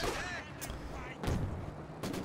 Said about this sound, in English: Oh my god, another rifle grenade.